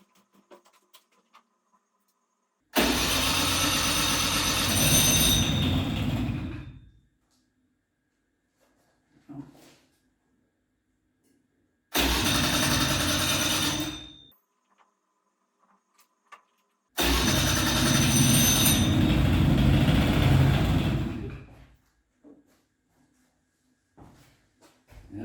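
A 2001 Hyosung Sense scooter with a wet carburetor and an engine that won't idle is given three separate start attempts. Each is a loud, close burst of cranking lasting a few seconds, with near silence in between.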